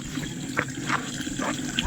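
Cold spring water runs near a hill temple on a plateau, a soft continuous trickle and gurgle with small splashy bubbles heard close by in the open air.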